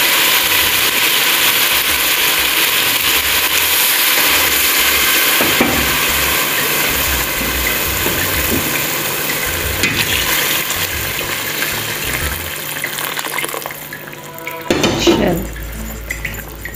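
Water poured into a pan of frying mixed vegetables with peas for vegetable rice, a loud continuous sizzle and bubbling hiss, ending with a sharp burst of splashing and steam.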